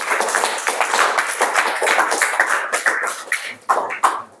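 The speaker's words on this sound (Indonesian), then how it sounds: "Tepuk tangan dulu untuk bentar" Audience applause at a school coaching supervision session, dense clapping hands sustained through the clip, fairly loud and close, thinning out toward the end.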